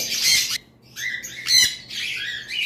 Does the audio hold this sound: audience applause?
no